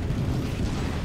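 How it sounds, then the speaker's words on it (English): A game explosion in the AirMech Strike 2v2 match plays as a dense, low rumbling boom that fills the whole moment at steady loudness, with no talking over it. "it's fun to see explosions"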